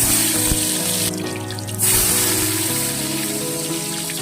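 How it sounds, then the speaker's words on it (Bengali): Eggplant pieces frying over high heat in mustard oil with black cumin and a green chili, giving a steady, close, broadband sizzle with a brief dip midway and no talk. "খুব ভালো করে বেশ আঁচটা বাড়িয়ে বেগুনটা ভাজবো"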